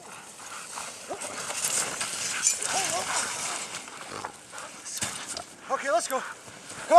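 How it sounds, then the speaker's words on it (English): Sled dog teams in a 4K race run past on a steep curve, with excited barking and yips, jingling and rushing movement up close, and people talking and cheering over it. "This is the 4K dog sled teams that are coming through here on this steep little curve."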